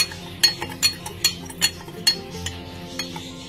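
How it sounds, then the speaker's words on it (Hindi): Spoon clinking against a container while stirring sugar into lukewarm water, a steady series of about ten light metallic taps in even rhythm, close and fairly quiet with no talking. "उसमें हम one table spoon sugar add करेंगे और इसको अच्छे से मिक्स करेंगे"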